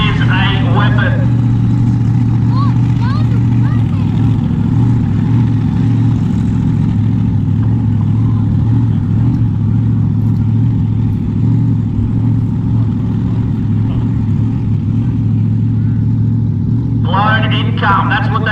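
At a car show, a supercharged 540 cubic inch big block Chevy engine idles loudly with a deep, lumpy rumble and occasional revs, while an announcer talks over it throughout.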